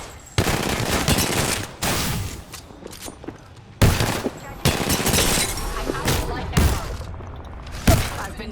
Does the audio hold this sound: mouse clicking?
no